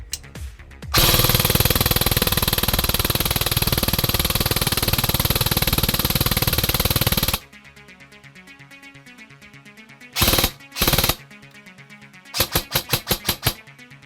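A Novritsch SSR9 airsoft gun fires full auto in one long, loud, continuous rattling burst of about six seconds, followed by a few short separate bursts and a rapid string of single snaps, close and without talk.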